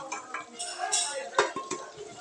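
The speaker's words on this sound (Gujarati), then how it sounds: "એને પણ સારી રીતે હલાવીને મિક્સ કરી લેવા" A spoon scrapes and clinks against a pot while brinjal and potato curry is stirred and mixed, giving several close, irregular metallic knocks and scrapes.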